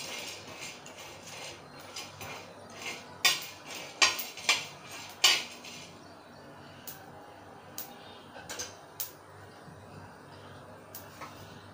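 Whole spices for Malvani chicken are stirred in a pan, the metal spoon striking it in a run of sharp clanks and scrapes, then sparser, softer taps.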